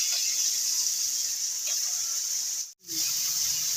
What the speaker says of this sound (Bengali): লতি ভাজার তেলের মধ্যেই আমি মাছটাকে ভেজে নিচ্ছি